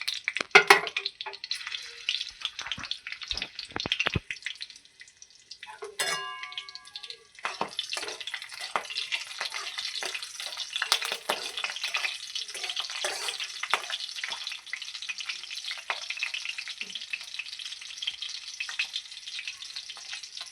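Green chillies frying in oil with five-spice tempering in a pan while cooking pumpkin greens, a close steady crackling sizzle that starts with sharp spits and settles into continuous hiss, with occasional stirring clinks.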